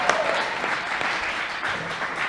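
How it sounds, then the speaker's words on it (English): Audience clapping fills the room steadily and loudly for a couple of seconds, a dense wash of many hands with no pause. "Y'all can clap for that because I've missed them."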